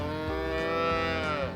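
A dairy cow on a Georgia farm lets out a single long, loud, close moo that holds steady for over a second.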